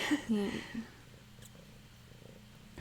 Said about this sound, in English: Just Pepper purring, that's all it is.